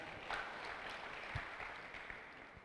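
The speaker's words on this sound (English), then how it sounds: "let us give a very big applause to the National Debate Council." Faint, diffuse applause from an audience at a debate opening ceremony, a steady patter of clapping lasting the whole stretch with no voices standing out.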